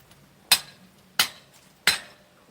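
A hammer strikes metal three times at an even pace while knocking a pulley out during a tower teardown, each blow a sharp, close clank with a short ringing tail.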